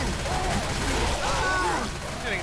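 Ongoing gunfire in the zombie shooter Left 4 Dead, a steady rattle of shots heard beneath excited shouting voices that dominate the foreground.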